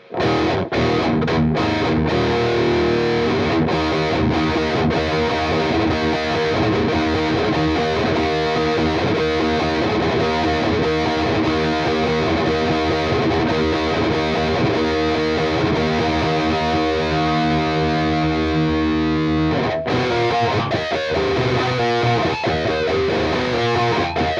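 An electric guitar plays through a JHS OC71 germanium boost pedal into a Mesa Badlander amp: loud, sustained, distorted chords ring continuously, with a brief break near the end.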